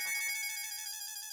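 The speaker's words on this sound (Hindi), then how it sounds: "बासुंदी का फिर से फोन" A mobile phone ringtone plays steadily, a bright electronic tone with a repeating warble, faint and a little distant, with no talking over it.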